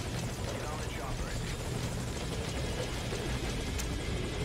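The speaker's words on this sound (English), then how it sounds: "Get on the chopper." A helicopter in Metal Gear Solid V: Ground Zeroes, a steady loud rotor rumble filling the scene throughout, with a voice speaking over it.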